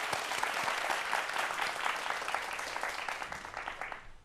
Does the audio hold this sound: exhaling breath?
no